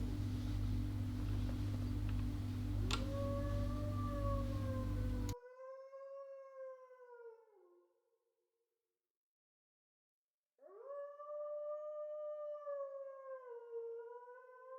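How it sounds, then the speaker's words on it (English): Dog howling at the moon, long rising and falling howls heard twice with a silent gap between, the first over a loud steady hum that cuts out suddenly. "I can still hear the dog howling outside my window."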